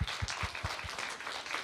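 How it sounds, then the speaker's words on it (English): Applause from a congregation at a church service, a steady wash of many hands clapping with a few louder individual claps standing out near the start. "let's just give them a round of applause for how great they've been"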